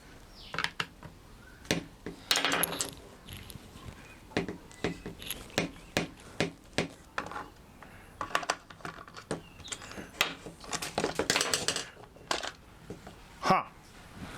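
Small screws being unscrewed and plastic parts clicked and pried apart on a budget heat gun, a quiet, irregular run of sharp close-up clicks and rattles with brief pauses between them.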